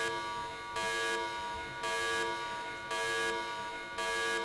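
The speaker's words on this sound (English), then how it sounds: "Sound the alarm!" A pulsing electronic alarm blares in a school stage play of Star Wars: The Empire Strikes Back, a loud harsh buzzing tone alternating on and off in a steady rhythm of about four blasts.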